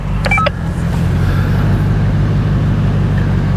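An off-road vehicle's engine rumbling loudly and steadily from inside the cabin as gas is added on a drive testing lowered tyre pressures, with a few quick electronic beeps near the start.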